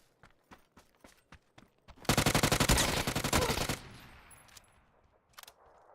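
A UMP submachine gun in a video game fires a rapid sustained burst of close, loud shots, preceded and followed by sparse single clicks and footstep-like taps.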